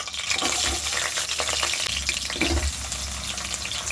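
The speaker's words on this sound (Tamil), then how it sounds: "அதில் எண்ணெய் ஊற்றுறேன். வெந்தயம் பொரியட்டும்." Fenugreek seeds frying in hot oil for a tempering in home Tamil cooking, a brisk, crackling sizzle with a few louder pops over a short few seconds, close and alone.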